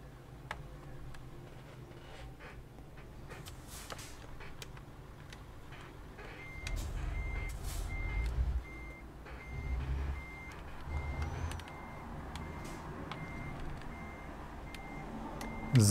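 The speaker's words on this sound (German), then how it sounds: "wir fahren jetzt erstmal rückwärts hier rein." Steady electronic reversing beeps repeat at an even rhythm from a truck backing up in Euro Truck Simulator 2, over a low engine rumble that swells midway, with no talk.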